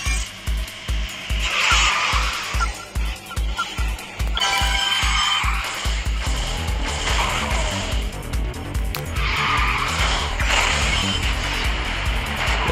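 Racing car engine roaring in the Garena Speed Drifters video game, with rhythmic revving at the start, then bursts of nitro boost and drifting swells repeating throughout, loud and continuous.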